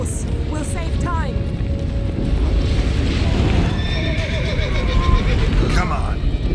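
A horse in a fantasy video game whinnies several times over galloping hoofbeats and clip-clop, with game music and voices talking throughout the loud, busy scene.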